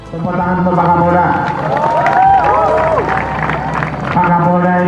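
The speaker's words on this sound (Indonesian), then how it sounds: "Tepuk tangan untuk Pak Kapolda." Crowd at a national jamboree applauding the regional police chief: dense clapping and cheering with a loud hubbub of voices, continuous and close throughout.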